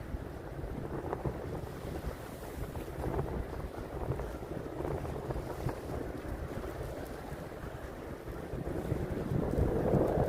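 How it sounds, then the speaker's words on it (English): River waves beside a walking path on Manhattan's Upper East Side, a continuous rushing wash of water with wind buffeting the microphone, steady and close throughout. "oh, the river, you can hear the waves."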